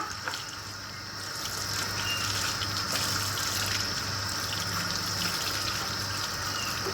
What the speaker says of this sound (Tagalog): I need to take shower with Mommy Mary